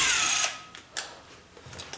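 Power drill fitted with a larger bit while fixing a wide door gap, a loud whirring burst at the start that cuts off, followed by a few sharp clicks and knocks.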